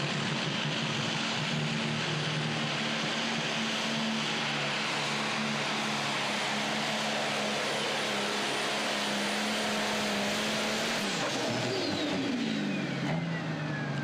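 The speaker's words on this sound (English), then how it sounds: "Up next, Denny Brown on the green with Envy Tractor" A pro stock pulling tractor at a truck and tractor pull in Goshen, Indiana roars loudly and steadily, its engine note holding near-constant before shifting and dropping toward the end.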